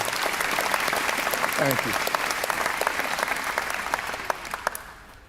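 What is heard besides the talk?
audience applause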